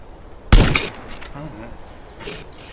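A single sharp, loud gunshot rings out at a deer while hunting in the game Ukraine GTA, followed by a quiet stretch with a brief voice murmuring in the background.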